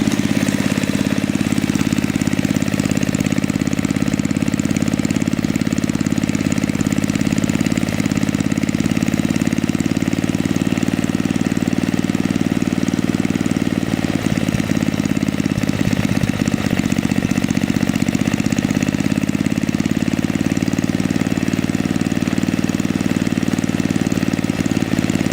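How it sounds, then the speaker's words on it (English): A snow blower engine idles steadily during a carburetor idle adjustment, a loud, close, continuous mid-pitched drone with a brief rough wobble partway through and no talk over it. "We're gonna adjust the idle"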